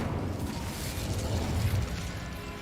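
Incendio fire spell cast in the video game Hogwarts Legacy, a dense roaring burst of flame that fills the moment with rumbling, crackling noise, loud and close throughout.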